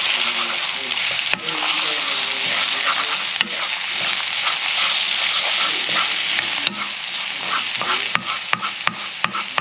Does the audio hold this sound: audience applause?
no